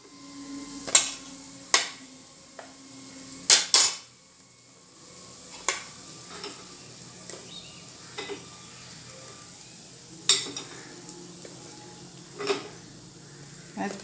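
A metal utensil clinking against an appe pan while mixed dal appe are lifted out, with scattered light taps and scrapes over a soft sizzle, and someone talking.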